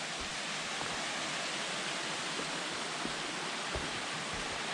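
A mountain stream flows beside a hiking trail in a steady, broadband rush of water, close and unbroken for the whole stretch.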